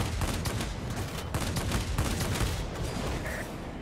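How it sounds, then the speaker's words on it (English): Dense, continuous machine gun fire from aircraft in the World of Warplanes air combat game, loud and rapid with many overlapping bursts that run steadily throughout, no speech. "Something was shooting at us."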